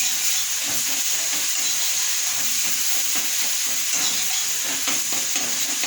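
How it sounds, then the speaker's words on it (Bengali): Tomatoes softened with salt are stirred and mashed into a paste with a spatula in a hot pan, a steady hiss of frying under scraping, dabbing strokes throughout, for a vegetarian aloo dum. "ভালো করে খুঁটি দিয়ে এটাকে নাড়াচাড়া করতে হবে যাতে টমেটোগুলো একদম ঘেটে যায়"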